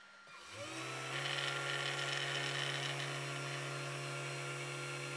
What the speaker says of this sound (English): The script first places holes in all four corners of the board.